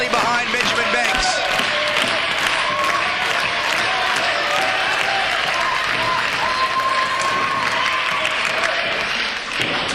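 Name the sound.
wrestling crowd cheering for Benjamin Banks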